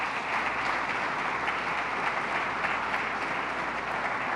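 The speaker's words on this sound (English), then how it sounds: "Let's give our great mayor a round of applause." A crowd gives the mayor of Rochester a round of applause during a governor's event, steady, even clapping from many hands heard at moderate distance and holding throughout.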